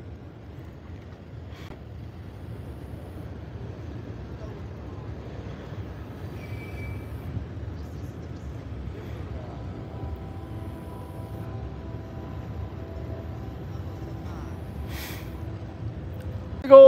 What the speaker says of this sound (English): Big old train, guys.